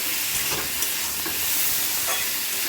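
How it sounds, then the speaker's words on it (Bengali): Potato, eggplant and long beans sauté in a pan with a steady close sizzle and scattered scraping stirs, no voices over it. "দেখো আমি ভালোভাবে কষিয়ে নিলাম"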